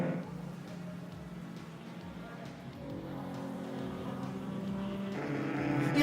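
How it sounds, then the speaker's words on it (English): Engine note of a blue Datsun race car heading down the hill through the final turn to the checkered flag, a rising, revving tone that climbs louder toward the end under a commentator's voice. "Johan Prince brings his blue Datsun down the hill to find the final turn, and he will also find the checkered flag waiting for him."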